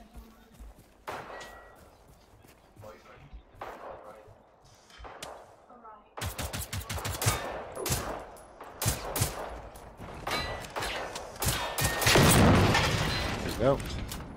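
Gunfire and explosions from the video game Generation Zero crackle in rapid bursts, sparse at first, then dense, loud volleys and booms building toward the end, with players talking between shots.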